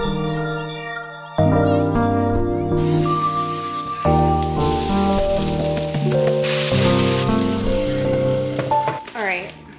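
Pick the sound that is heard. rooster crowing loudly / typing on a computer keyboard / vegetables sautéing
vegetables sautéing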